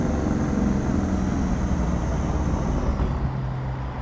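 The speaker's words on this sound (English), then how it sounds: "What a good sounding engine." Truck engine running smoothly while hauling a heavy scraper on a coastal road, a low steady rumble with road noise from inside the cab, fairly quiet and unbroken throughout.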